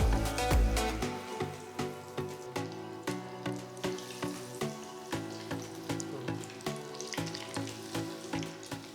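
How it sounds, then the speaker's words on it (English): Corn cheese balls deep frying in hot oil over a medium flame, a steady crackling hiss broken by regular soft thuds, like stirring or tapping, with no voices. "pour enough oil for deep frying the corn cheese balls"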